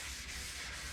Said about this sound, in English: But we'll just keep persevering and sanding.